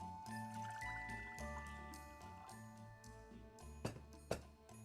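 Water pours into a deep pot on a gas stove, a steady trickling stream with faint metallic tinkles and two sharper clanks near the end.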